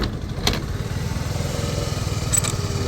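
A Honda Dio two-stroke scooter engine idles steadily nearby with a fast, even putter, plus a couple of brief high clicks.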